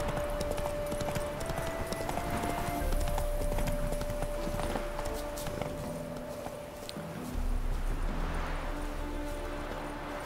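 Geralt's horse Roach in The Witcher 3 clip-clops along at a steady walking rhythm, hooves clear and close over a continuous ambient game bed with a sustained tone.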